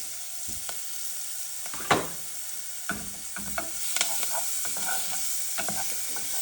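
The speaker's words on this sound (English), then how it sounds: "get our shallots in. I'll let them saute nicely" Shallots sautéing in a pan for a beef Wellington jus, a soft steady sizzle broken by occasional spoon scrapes and clicks, fairly quiet and close.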